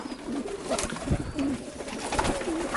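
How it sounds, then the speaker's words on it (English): Several pigeons coo nearby in repeated soft, throaty calls that overlap in an irregular rhythm over faint background rustling. "we don't need all these pigeons hanging out"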